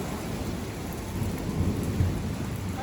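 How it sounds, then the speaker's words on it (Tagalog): Thunder rolls through a storm in Canada, a loud, continuous low rumble over the steady hiss of rain falling on surfaces, with no voices. "Ang lakas ng kulog."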